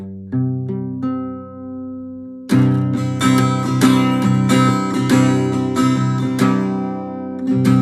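Guitar strings in open D tuning plucked one by one, then strummed repeatedly in a bright open chord, ringing clearly with no voice.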